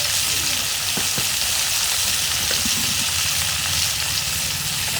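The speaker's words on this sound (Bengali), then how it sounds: "মোরা মাছ ভাজা হইতে থাক" Fish sizzling and frying steadily in a pan over a clay stove, a dense continuous crackle with occasional stirring clicks, close and fairly loud.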